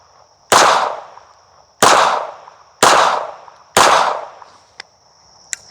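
Four loud, sharp pistol shots from a Romulus 1K handgun at a shooting range, evenly spaced about a second apart with short ringing decays, followed by faint clicks.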